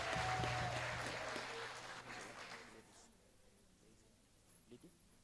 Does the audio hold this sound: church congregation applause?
yes